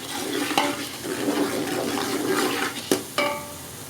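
Onions frying in cooking oil in a pan give a steady crackling sizzle, with a couple of sharp scraping stirs near the end. The sound is close and moderately loud, with no talking.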